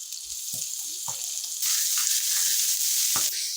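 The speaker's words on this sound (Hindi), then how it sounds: "फ्राई करेंगे इसको, सिर्फ 1 मिनट तक फ्राई करेंगे मीडियम टू लो फ्लेम पर। साथ में करी पत्ता ऐड कर देंगे।" Dried red chilies and curry leaves frying in hot oil over a medium-low flame, a steady close sizzle with a few soft stirring knocks, the hiss growing louder partway through.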